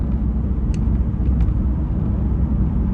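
A car driving over a rough last stretch of road makes a loud, continuous low rumble throughout, with a couple of faint high clicks on top and no voices.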